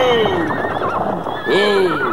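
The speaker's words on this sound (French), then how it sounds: "Faites arrêter vos chevaux!" Horses whinny loudly close by, with hooves clip-clopping beneath in a French costume drama scene; the neighs rise and fall twice across the short stretch.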